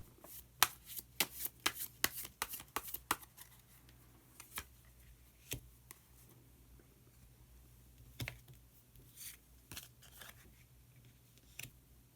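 Tarot cards are shuffled and drawn close up in a quiet room, giving crisp riffling snaps in a rapid cluster at first, then scattered single flicks and slides of cards.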